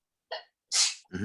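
A single sharp human sneeze bursts out close up, preceded by a short intake of breath, with a brief voiced sound right after.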